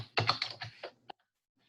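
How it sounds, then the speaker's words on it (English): A short close-up run of keystrokes on a computer keyboard taps out a quick burst, pauses briefly and ends with one final key press, then falls silent. "I'm going to type in origin."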